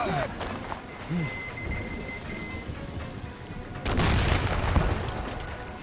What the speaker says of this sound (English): Catch a grenade, you heretic!